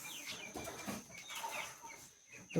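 Country chickens and chicks in a village poultry shed in Ratnagiri give soft, scattered clucks and peeps, fairly faint and close.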